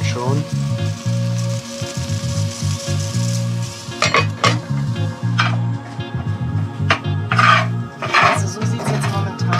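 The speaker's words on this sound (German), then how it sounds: "ich packe jetzt die Bohnen mal in die Pfanne." Beans rattle and skitter in a hot pan as they roast, with scraping stirs and clinks against metal over a steady sizzle; a voice talks underneath. In the Sierra Nevada de Santa Marta jungle, Colombia.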